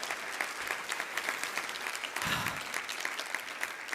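An audience applauds steadily for a few seconds, a dense spread of many clapping hands heard at moderate volume, with little talk over it.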